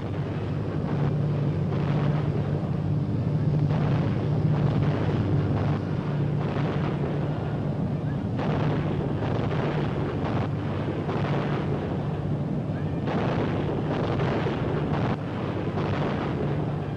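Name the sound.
convoy anti-aircraft gunfire and explosions in wartime newsreel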